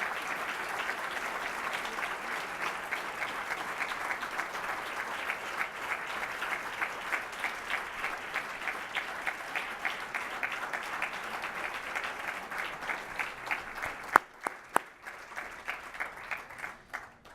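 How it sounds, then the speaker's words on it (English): Sustained applause from a large crowd at a democracy awards ceremony, steady and dense throughout, with a few sharper claps standing out near the end. "Please give her another round of applause."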